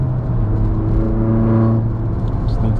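A Mini Cooper S drives a mountain pass, its engine a steady loud hum and rumble heard from inside the cabin, with road noise throughout and no clear gear changes.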